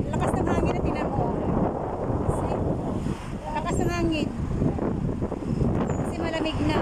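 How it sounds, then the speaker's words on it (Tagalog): Strong wind in Kuwait City buffets the microphone with a constant low roar, and voices talk intermittently over the gusts. "Kasi malakas ang hangin."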